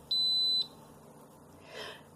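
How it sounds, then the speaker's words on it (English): An Instant Pot on sauté mode warming water gives a single clear electronic beep of about half a second, followed by a faint rustle, in a quiet kitchen. "we'll wait for that to beep"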